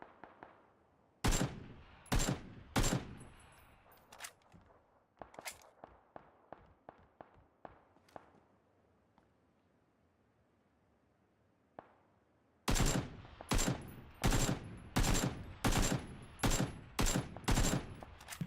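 Gunfire in the battle royale game PUBG: sharp, loud shots in quick bursts, then a run of fainter, more distant single shots, and finally a dense close volley of rapid fire.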